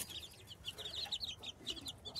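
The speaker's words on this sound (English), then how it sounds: "this is one that my hen hatched. It's from my naked neck hen." Young naked neck chicks peep and cluck in quick high-pitched bursts on a farmstead, fairly faint and close, with no talking.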